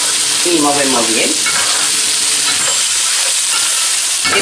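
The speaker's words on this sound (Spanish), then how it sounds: "Y movemos bien." Canned squid in American sauce is stirred into a fideuá frying in a pan. A loud, continuous sizzle is heard with a spoon scraping and stirring through it.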